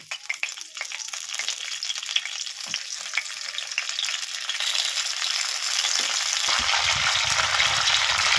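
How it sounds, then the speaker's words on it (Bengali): Flat beans fry in mustard oil in a wok, a steady close crackling sizzle with bursts of spattering that grows a little fuller toward the end. "কড়াই বসিয়ে দিয়েছি, 2 চামচের মতো আমি এখানে সর্ষের তেল দিয়ে দিয়েছি। এবারে সিমগুলো দিয়ে দেবো এতে।"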